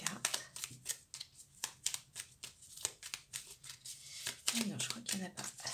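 A deck of cards being shuffled and a card drawn, with a rapid run of crisp riffling snaps and flicks close by, under soft intermittent talk.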